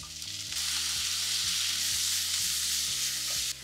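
Onions, chole and paneer fry on a hot tawa with a loud, close sizzle that swells after a brief start and holds steady. A rhythmic low tonal pattern runs underneath, likely background music, and no one speaks.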